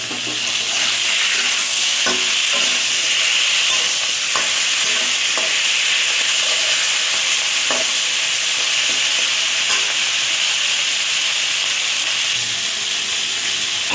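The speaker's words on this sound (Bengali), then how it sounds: "এই যে জলটা ফুটে উঠে গেছে, এবার আমি কচুটা দেবো।" Bubbling and hissing fill a pot of boiling water as pieces of taro (Bengal arum) are added, with a loud continuous seething broken by scattered clinks and splashes.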